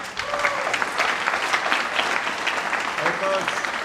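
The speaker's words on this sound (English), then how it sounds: "let's give a big round of applause for Jonathan." Applause from a conference audience greeting a speaker at a monitoring and observability tech event, steady clapping throughout, fairly close, with faint voices mixed in.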